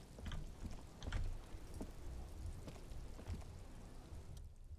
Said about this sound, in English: Stuck in the rain in a traffic jam, man.